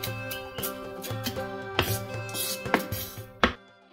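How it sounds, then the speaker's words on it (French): Knife chopping walnuts into small pieces on a cutting board, with a run of repeated taps and a few sharper knocks close by, over a steady background hum; no one talks. "Je les coupe aussi en petits morceaux. Je continue à hacher comme vous voyez."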